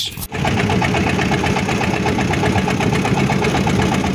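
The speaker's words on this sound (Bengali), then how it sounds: "এভাবেই টকটক শব্দ করে চলছে নৌকা" A passenger engine boat crossing a river near a char chugs loudly and close, its engine knocking in a fast, steady rhythm without a break.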